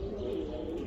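A female pigeon, one of a flock of pigeons, giving a soft, low, continuous cooing, faint and close, lasting about a second with no talk.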